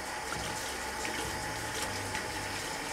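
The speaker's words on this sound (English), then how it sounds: "rinse out the brush." Running tap water pours and splashes steadily as a shaving brush is rinsed under it, a continuous close rush with no voices.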